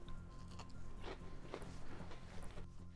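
Close-up biting and chewing of crunchy fried pork cutlet, with several distinct crunches over a low steady background hum.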